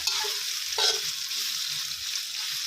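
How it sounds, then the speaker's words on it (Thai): Chicken curry paste for a Thai jungle curry stir-fried in a pan over medium heat, a steady close sizzle with the scrape of a spatula stirring partway through, no talking. "ค่อยๆผัดไปนะครับ"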